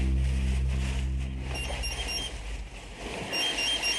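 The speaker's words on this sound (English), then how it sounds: "And then his gas monitor beeps." A gas monitor sounds a repeated electronic alert inside a tunnel, with thin high beeps over loud low rumble and noise.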